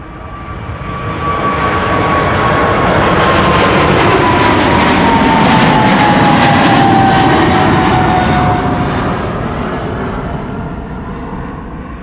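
Loud roar of Boeing 777-300 jet airliner engines at Amsterdam Schiphol swelling and fading, with a descending whine running through the steady rumble.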